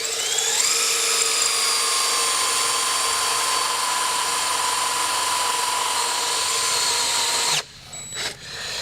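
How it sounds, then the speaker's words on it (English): Steady high-pitched whine of a drill boring into gray cast iron, loud and continuous for about seven seconds, then cutting off abruptly followed by a brief sputter. "So now let's drill it to identify the chips."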